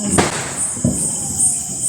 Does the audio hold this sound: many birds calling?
no